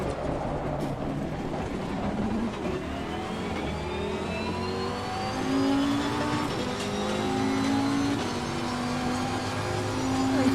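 A race car engine in Assetto Corsa Competizione holds high revs in a continuous loud drone, its pitch climbing through gears with overlapping harmonic whines over wet-track road noise.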